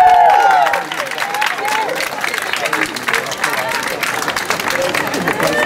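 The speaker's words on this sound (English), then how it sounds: "Give her a massive round of applause." Audience applause and cheering at a live magic show for a children's charity, a loud burst of clapping that eases after the first second into steady crowd clapping and hubbub.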